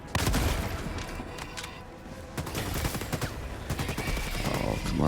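Loyalist gun firing in the Helldivers 2 video game: a dense, loud burst of repeated shots runs nearly the whole time amid game din, with a faint voice now and then.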